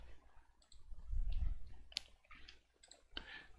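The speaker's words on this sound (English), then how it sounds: "click over to that" A computer mouse clicks a few times, separate and fairly quiet, while someone works at a desk in graphic design software, with a low thump partway through and no talk.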